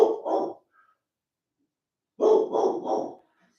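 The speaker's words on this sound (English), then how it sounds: "Let me go see what she's barking at the front door." A pit bull barks at the front door of a house: two quick barks, a pause, then a burst of three more, loud and close with no talk over them.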